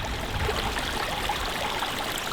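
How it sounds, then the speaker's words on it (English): A creek flows steadily with a soft, continuous rushing and trickling, even and unbroken, heard close without any voices. "So the creek that we just saw before,"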